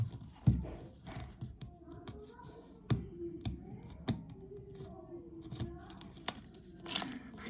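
Adhesive tape peeled and torn off a wrapped gift piggy bank, heard as close crinkling, crackling and sharp rips in short bursts. A few faint clicks and handling noises fall between the rips.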